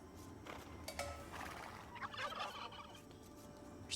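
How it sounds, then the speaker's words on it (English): Turkeys gobble in the Age of Empires 2 DE video game, several short warbling bursts over steady game ambience at moderate level. "There's 2 more turkeys."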